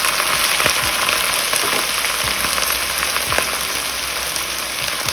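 One kilogram of mutton frying in a pan over already-fried onions, a dense continuous sizzle with occasional stirring scrapes, close and loud, no talking.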